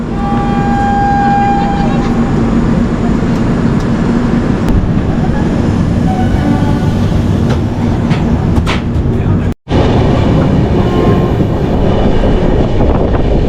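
The Netravati Express rolling into Ernakulam North station, a loud continuous rumble and wheel clatter heard from inside the train, with one brief cutout partway through.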